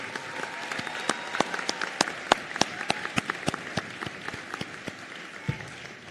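Applause for graduating nursing students at an LCON graduation ceremony, scattered sharp claps from a modest crowd over a light background murmur, fairly distant and uneven.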